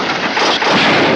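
Gunfire in a 1950 western movie, a loud, dense burst of noise that fills the whole short moment, heard up close without any speech.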